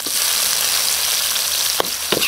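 Garlic, onion and tomato sizzle steadily in a hot pan, a loud continuous frying hiss with a couple of brief stirring clatters near the end, no voices.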